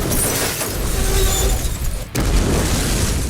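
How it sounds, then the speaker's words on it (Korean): A movie car explodes after a collision, a dense, loud, sustained blast roar that cuts out abruptly for a split second before the rumble resumes. "무슨 폭탄이 실린 차도 아닌데 이렇게 충돌만으로 폭발하는 경우도 상당히 많은데요"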